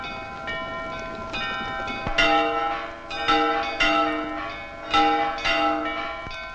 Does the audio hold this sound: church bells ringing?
yes